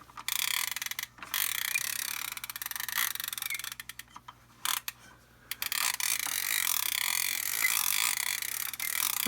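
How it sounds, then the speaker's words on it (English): A plastic wrench piece from the Parker Brothers Grape Escape board game slides and rattles along its plastic track, a close, dense clattering and ratcheting that runs nearly continuously with a few brief pauses. "as you can see, as the wrench slides up and down"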